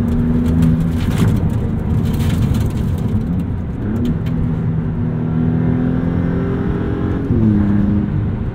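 Turbocharged engine of a 2023 Maserati MC20 revving hard during canyon driving, a loud continuous drone with rising and falling pitch across gear changes, heard up close from inside the car with no talking.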